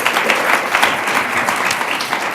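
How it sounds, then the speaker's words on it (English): Steady, close applause from an audience honoring community poets at a Maya Angelou celebration, dense and continuous with no break. "let's give our community poets another rousing applause"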